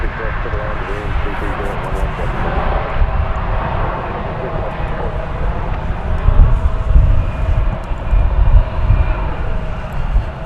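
A jet airplane at DFW Airport, cleared for takeoff on runway 36 right, roars as a broad, sustained engine rumble that swells slightly toward the end, heard from some distance with wind buffeting the microphone.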